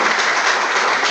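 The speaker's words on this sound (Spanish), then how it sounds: "Brindemos entonces un fuerte aplauso" Audience applause at a university architecture faculty lecture event: a dense, steady wash of many hands clapping at once, loud and close, filling the whole moment with no voices over it.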